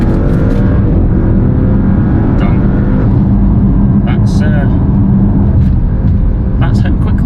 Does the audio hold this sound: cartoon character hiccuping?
no